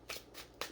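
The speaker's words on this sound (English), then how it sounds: "3 shuffles, then I'm going to look at the bottom of the deck." Tarot deck shuffled by hand: three quick riffling bursts of card flutter, close and soft, with brief gaps between.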